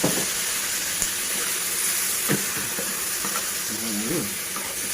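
Garlic and chili stir-fry in a hot wok for Thai basil chicken, a steady loud sizzle and hiss with occasional scrapes of stirring and a brief voice in the background.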